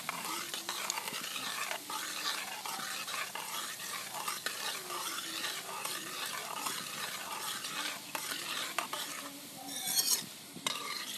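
Spoon stirring homemade amla hair oil with a spoonful and a half of kalonji seeds in a pan, a steady busy scraping and soft sizzling texture running throughout, close and continuous with a slightly louder scrape near the end.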